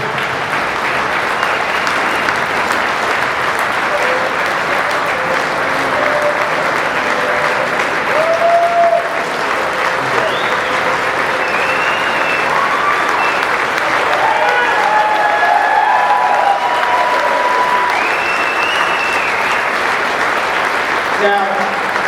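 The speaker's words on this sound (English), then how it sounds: "Let's give him a round of applause" A crowd at a charity event gives sustained, dense applause for a young man called up on stage, loud and unbroken for over twenty seconds, with occasional cheers and whistles rising through the clapping.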